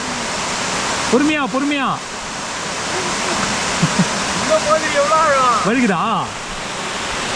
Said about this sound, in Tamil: பார்த்தீங்களா ஃபால்ஸ் ஒரு அழகை பாருங்க, வேறு லெவலுங்க